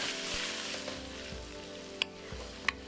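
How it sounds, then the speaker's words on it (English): Lamb meat sizzles and crackles steadily as it stir-fries in a hot pan, with occasional scrapes and knocks of a utensil stirring. "Stir and fry."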